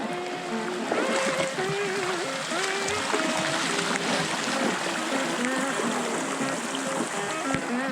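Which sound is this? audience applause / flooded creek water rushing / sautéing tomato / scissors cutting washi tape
flooded creek water rushing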